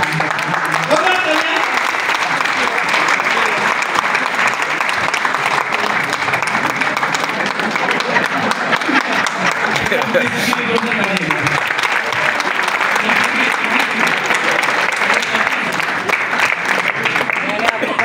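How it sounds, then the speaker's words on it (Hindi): Loud, sustained applause from an audience fills the whole stretch, a dense steady clatter of many hands clapping without a pause. "जोरदार ताली"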